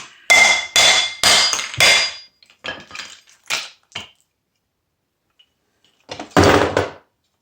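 Copper and brass scrap struck hard to break off bits, with four loud metallic blows in quick succession, then several lighter knocks, a pause, and one final heavy strike.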